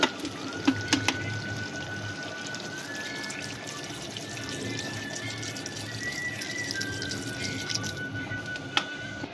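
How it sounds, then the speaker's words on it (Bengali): Water poured from above into a pan of chicken curry, a thin steady trickle with faint drips over low background noise, no talking. "এবার আমরা ওপর থেকে পরিমাণ মতন জল দিয়ে দেবো"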